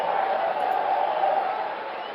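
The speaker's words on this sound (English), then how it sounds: "Crowd's going to start on us here in a minute" A muffled, steady crowd murmur rises from a ballpark in the APBA PC Baseball video game, during a Braves game against the New York Giants at the Polo Grounds, and stays continuous throughout.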